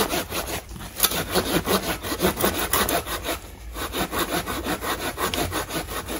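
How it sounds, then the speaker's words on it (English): A blunt hand saw cuts through hard privet bonsai wood in a steady, rhythmic series of close back-and-forth strokes, each pull and push rasping clearly, with no talking. "I will just bring an appropriate saw and try and get that off."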